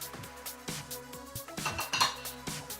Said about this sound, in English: Let's begin beating the eggs.